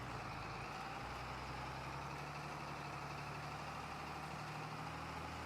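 In Farming Simulator 25, a tractor engine idles with a steady, continuous low drone and a constant throaty rumble, unchanged from start to finish with no voices.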